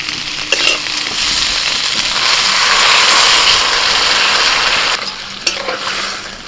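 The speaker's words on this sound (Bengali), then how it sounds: "একটু আদা বাঁটা মশলাটা দিয়ে একটু নেড়ে চেড়ে নিয়ে আবার একটু জল দিয়ে দিচ্ছি" Ginger paste and spices stirred in a hot pan with a loud, broad sizzle that swells when water is poured in, a few sharp utensil clicks at the start and near the end, no voices.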